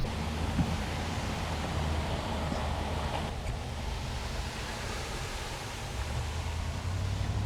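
Steady rain falls outside at a campground near Mill Creek, Arkansas, a constant even hiss that fills the whole stretch without pause.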